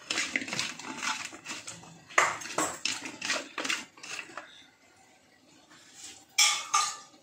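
Potatoes being stirred with salt and chili for Multani-style lotus stem pakode, giving close bursts of clinking and scraping utensil sounds against a bowl, alone with no voices.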